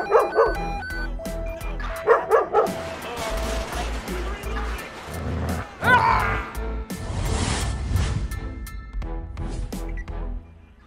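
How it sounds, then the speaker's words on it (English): A police K9 dog in a GTA V LSPDFR patrol game barks and yips in rapid bursts, then whimpers, loud and close over game sounds and a steady engine hum. "All units, be advised, canine deployed."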